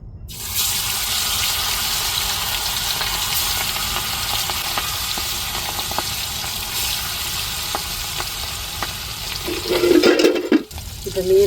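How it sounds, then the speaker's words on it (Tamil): Fish sizzles steadily in hot oil, a dense continuous frying hiss that stays loud throughout, with a brief louder splatter and clatter near the end. "இப்போ எண்ணெய் சூடேறிட்டு அப்படியே மீனை போட்டு பொரிச்சிருவோம்"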